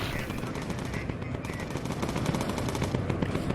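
In the Bomber Crew video game, 20mm cannons fire rapid, continuous bursts during a night-time bombing raid, loud and dense throughout, with game sound effects mixed in.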